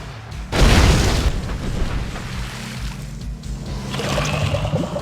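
A loud, close boom from a unit firing in the Red Alert 2 strategy game erupts early, then gives way to rumbling, watery explosion noise and further bursts toward the end.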